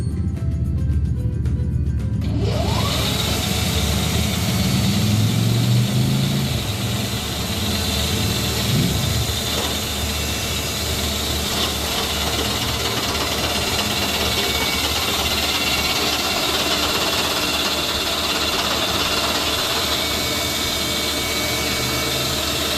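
Machine shop cutting a VW cylinder head: a steady, loud mechanical machining drone with a low engine-like hum and broad grinding noise running continuously after a brief quieter start.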